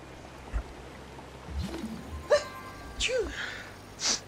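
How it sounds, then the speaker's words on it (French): A person sneezes with a sharp burst after a few quick breaths, followed by some soft vocal noises and a faint steady background hiss. "Et je vais éternuer aussi"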